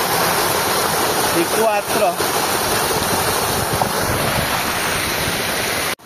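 Water gushes from a solar-powered portable pump at a rice paddy, a loud, steady rushing flow with wind buffeting the microphone, and someone speaks briefly over it.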